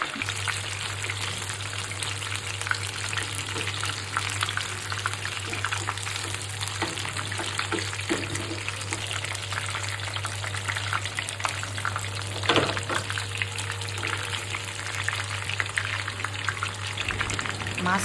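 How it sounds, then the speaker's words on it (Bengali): A large tilapia fries in a little oil in a pan, giving a dense, continuous sizzle that stays steady throughout. "আমি বারবিকিউ করবো এই জন্য অল্প তেলে মাছটা ভাজতেছি"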